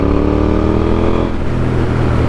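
KTM Duke 890R motorcycle engine pulling steadily in 4th gear around 4000 rpm, a loud, continuous onboard drone mixed with rushing wind, slightly rougher in the second half; no talk.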